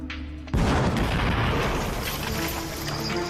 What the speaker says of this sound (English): Again, the explosion rocks the quarry.